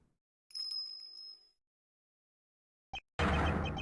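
A bright bell chime rings out in the Ace Attorney Investigations 2 video game, sustained and ringing for about a second, followed by silence and then a burst of louder game sound.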